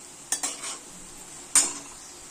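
Red-fried potatoes come out of hot oil in a wok, with two or three sharp metal scrapes and clinks of a spoon over a faint, steady sizzle.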